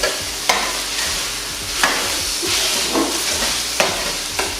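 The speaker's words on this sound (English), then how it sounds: "so just keep stirring your onions" Onions frying in a pan on a stove while being stirred, a continuous sizzle broken every second or two by the scrape of the spoon across the pan, close and fairly loud.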